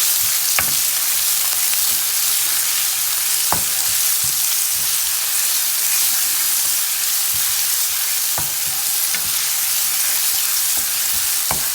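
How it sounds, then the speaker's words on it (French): Onions sautéing in hot oil with a stock cube, a steady close sizzle running throughout, broken by a few sharp utensil clicks as they are stirred; no voices. "Je vais faire revenir mes oignons avec un cube."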